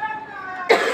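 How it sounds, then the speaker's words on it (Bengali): A single sharp, loud cough from a person with a lingering cough bursts out right after a brief voiced sound. "তো বুঝতে পারছো প্রচন্ড কাশি এখনো হচ্ছে"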